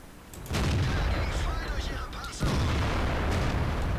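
Two heavy booming tank cannon shots in World of Tanks, loud and near, each followed by a sustained rumbling roar, with a voice talking over them.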